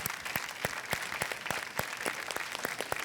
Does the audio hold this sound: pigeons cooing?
no